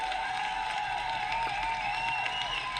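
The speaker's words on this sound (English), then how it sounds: "Now, I would like to give you a round of applause." An audience gives a round of applause, a faint, distant and even patter of clapping heard throughout, with no voices.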